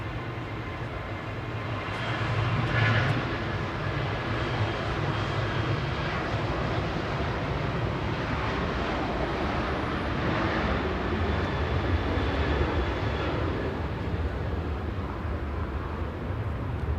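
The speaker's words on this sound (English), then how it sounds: "Ryanair's GRUKO 737-800 departing with flight 1145 to Berlin" Ryanair Boeing 737-800 departing Manchester Airport for Berlin: a steady, loud jet engine roar that holds for the whole stretch, with no talking.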